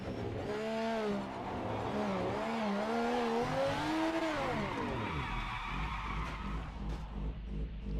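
Racing car tyres skid and squeal through a long controlled drift in the video game Project Motor Racing, a wavering screech over a steady engine drone that ends as the car straightens and the roar settles into a lower rumble.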